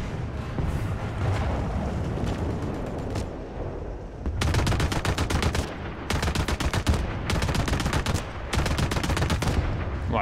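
Tank main cannon firing in War Thunder, loud sustained bursts of blasts and rapid gunfire that clatter through the second half after a rumbling battlefield bed.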